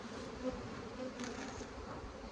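Honeybees buzz at an open hive, a soft, continuous, even drone heard faintly from close by with no other sounds.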